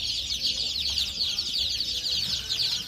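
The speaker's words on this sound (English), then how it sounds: "Look at the baby ducks." Baby ducks in a store pen at a farm supply shop peep constantly in a high, dense chorus of overlapping chirps, close and steady for the whole stretch.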